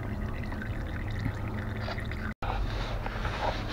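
Used engine oil from an Audi A3 2.0 TDI drains in a steady pouring trickle into a catch pan, a continuous close liquid gurgle with one brief dropout.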